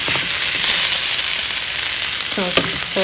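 Spinach sizzles and fries steadily in a hot pan while it cooks down for a low-carb breakfast, giving a dense, continuous crackle up close with a few brief clinks near the end.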